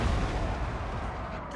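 Rapid, overlapping bursts of gunfire from units shooting in a Total War Warhammer battle, a dense crackling volley with booming low thumps, loud and continuous over the short stretch.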